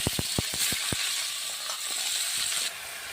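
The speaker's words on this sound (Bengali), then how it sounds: "তো তেলটা গরম হয়ে গেছে, তেলের মধ্যে আলু, বেগুন, ডাঁটা সবই দিয়ে দিলাম একসঙ্গে।" Potatoes, eggplant and pumpkin stems drop into hot oil in a pan, with a quick burst of sharp clinks and taps at first, then a bright, steady sizzle and hiss that carries on close by.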